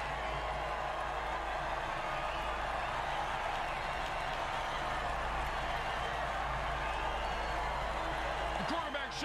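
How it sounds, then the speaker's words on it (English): A video game stadium crowd from the American football game Mutant Football League cheers in a steady, distant roar beneath a commentator's voice. "Oh, crowd's loving it."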